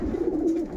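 Vaccinated domestic pigeons, a little nervous, give a soft low cooing that holds steady and close throughout the short stretch.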